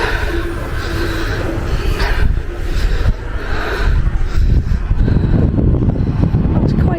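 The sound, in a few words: wind at top of Split bell tower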